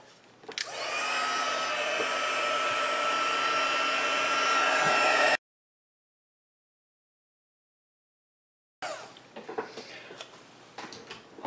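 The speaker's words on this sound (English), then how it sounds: "let's hit this with the heat tool" A craft heat tool blasts steadily for about five seconds while melting embossing powder on a card, a loud close whooshing hum that stops abruptly and is followed by silence and then faint handling noises.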